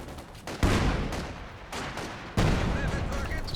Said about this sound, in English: This barrage clears out the stolen Dishka